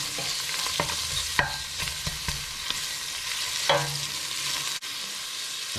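Roughly chopped garlic cloves, about four of them, frying in a pan for a Fijian rourou dish, with a steady soft sizzle and occasional stirring clicks and scrapes, no voices.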